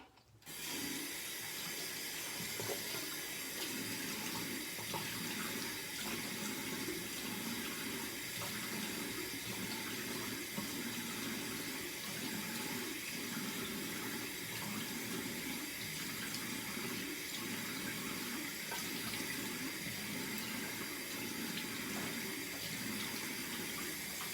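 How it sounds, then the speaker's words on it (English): Tepid tap water runs in a steady, close stream for a facial rinse during a nighttime skincare routine, with soft splashing throughout and no talking. "And I'll go ahead and rinse this off now."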